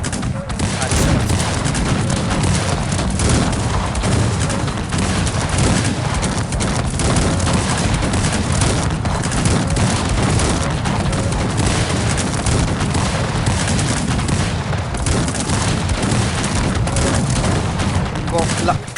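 Cannon and musket fire in Cossacks 3 form a dense, continuous battle roar of overlapping volleys and booms, loud and unbroken, with a voice talking over it.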